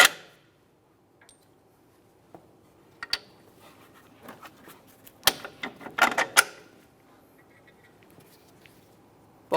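Metallic clicks, creaks and scrapes come from mounting bolts being fitted and tightened on a front wheel hub of a 2008–2017 Mitsubishi Lancer, irregular and close, with a brief busier burst in the middle.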